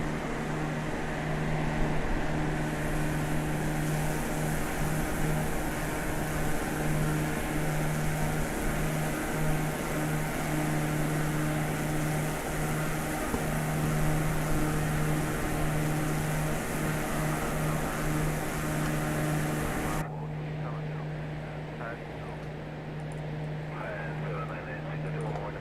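Steady, loud drone of a small propeller aircraft's engine in cruise on a long-distance flight from Bhubaneswar, India toward Sigiriya, Sri Lanka, a constant hum with a strong low tone that eases slightly near the end.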